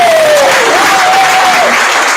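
A school audience at a time capsule opening breaks into loud, dense, continuous applause that fills the space evenly from start to finish, with a faint voice briefly gliding over the top.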